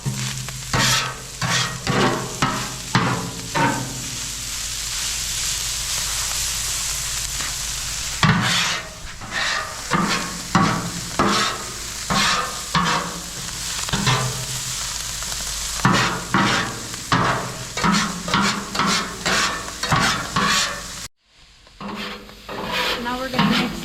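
Seasoned cheesesteak meat and vegetables sizzle in a hot pan while a utensil repeatedly scrapes and stirs them together, the scraping strokes coming in uneven bursts over the steady frying hiss, with a short pause near the end.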